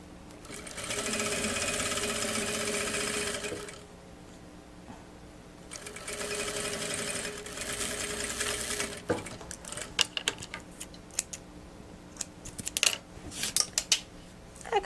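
A sewing machine topstitching a seam on a fabric shoulder bag runs in two loud sustained bursts of rapid stitching, then gives way to scattered clicks and handling taps.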